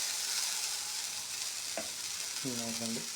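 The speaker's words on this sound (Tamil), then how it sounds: "எண்ணெய் விட்டு லைட்டாக தடவிட்டு ஒரு கரண்டி மாவு வச்சு அதை ஊற்றிட்டு" Dosa batter ladled onto an oiled pan, giving a steady, close hiss of frying with a short scrape partway through, no voices.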